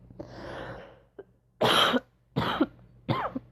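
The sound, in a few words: cough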